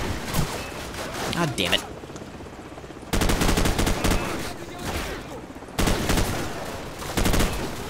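Shotgun blasts in Call of Duty 4: Modern Warfare, fired randomly in rapid bursts of loud, close booms separated by brief pauses, with someone talking briefly over the gunfire.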